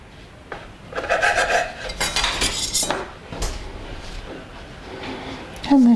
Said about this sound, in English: cut off this excess piece of dough